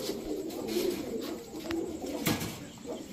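Pigeons kept by a street pigeon seller give soft, throaty coos up close, repeating in short rolling phrases over a quiet background with a few faint clicks.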